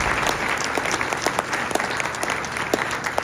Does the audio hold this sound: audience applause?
yes